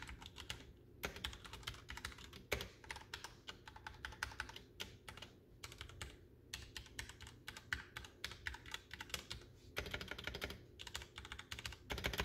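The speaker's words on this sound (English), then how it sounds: "most of you already know what Cherry MX Silver sound like, but just to give you a quick typing test" Quick typing on a Ducky Year of the Rat mechanical keyboard fitted with Cherry MX Silver switches, a dense close stream of crisp key clacks with short pauses, no voice.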